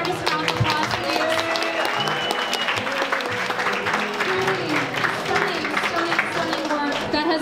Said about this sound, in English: Let's give all of the artists a round of applause for you.